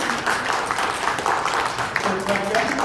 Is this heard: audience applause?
yes